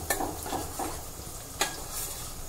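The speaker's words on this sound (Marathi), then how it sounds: "1 मिनिट आपण त्याला फ्राय करून घेऊया। कांदा मस्त गोल्डन झालेला आहे।" Sliced onion fries until golden for a spicy dry mutton dish, a quiet steady sizzle broken by a few scraping strokes of a spoon stirring the pan.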